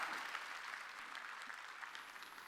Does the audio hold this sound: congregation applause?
yes